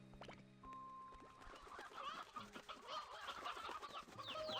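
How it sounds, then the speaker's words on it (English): Chickens in the video game Slime Rancher 2 cluck and squawk in a dense, overlapping flock, many birds calling at once throughout amid steady game ambience. "My god, the number of chickens."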